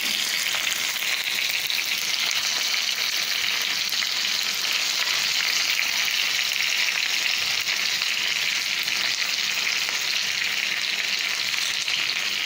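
Beef seekh kebabs on a very hot sizzling pan with onions throw off a loud, dense, unbroken hiss and crackle that stays steady throughout.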